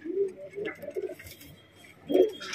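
A pigeon coos in soft, low repeated phrases at close range, with a quiet pause before one louder final coo.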